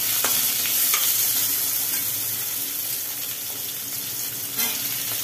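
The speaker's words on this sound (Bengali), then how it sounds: "তারপরে কড়াই ছেড়ে দিল পেঁয়াজ" Onions sizzle and fry in a hot wok, a steady crackling hiss with occasional stirring scrapes close up, no voices.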